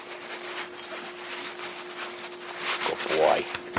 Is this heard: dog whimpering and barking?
yes